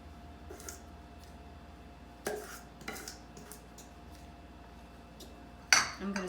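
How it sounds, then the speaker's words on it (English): A spatula scrapes the last lemon poppyseed muffin batter from a mixing bowl, with a few sharp clinks and taps against the bowl over quiet room tone. A voice murmurs faintly in the background. "I'm going to scrape every little last bit out"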